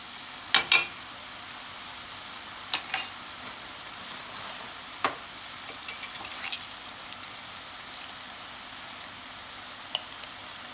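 Vegetables sizzle quietly in a pan while turmeric is stirred in for a vegetable biryani, a faint steady hiss broken by scattered sharp crackles and spatters, with no voices.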